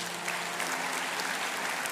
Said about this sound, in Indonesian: Yang percaya kasih tepuk tangan yang paling meriah buat Allah kita